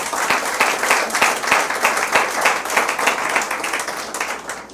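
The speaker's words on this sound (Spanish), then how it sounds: "denle un aplauso al Señor" A church congregation claps together during a service, giving a sustained round of applause. The dense clapping is evenly spread, close by and loud, and runs the whole time with no talk over it.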